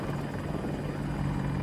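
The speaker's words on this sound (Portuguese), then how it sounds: "o helicóptero antiaéreo já tava me locando" An anti-aircraft helicopter in Battlefield 2042 gives off a loud, continuous rotor drone with a steady low hum, close and unbroken for the whole short moment, with no voices.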